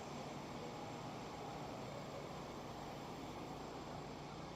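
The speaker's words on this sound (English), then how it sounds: "I don't know how well you can hear me with that jet dryer going." A jet dryer runs on pit road at the Indianapolis Motor Speedway during a drizzly Indy 500 practice day, giving a steady, continuous roar that fills the whole clip with no pauses.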